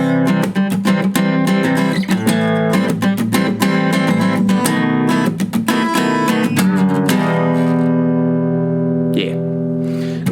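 Guitar plays the chord progression from a song, with busy strummed chords that settle into longer ringing chords near the end, close and unaccompanied.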